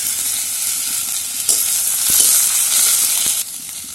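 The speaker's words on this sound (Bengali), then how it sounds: "তেল দিয়ে দিচ্ছি, পেঁয়াজ দিয়ে দিই," Onion and ground spice paste frying in oil in a pan, with a loud, steady sizzle close by and a few stirring knocks, no talking.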